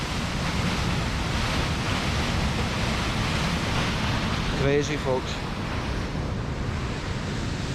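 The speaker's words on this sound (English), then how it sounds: "The force of the water clattering onto these stones." The River Isla waterfall at Reekie Linn crashes onto stones in a constant, loud roaring wash, broad and unbroken, with a voice speaking briefly over it near the end.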